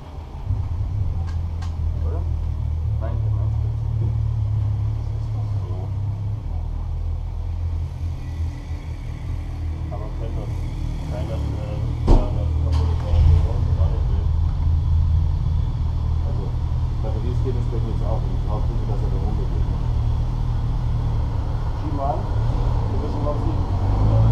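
A motorcycle engine runs with a continuous low rumble throughout, steady and close, while people talk over it.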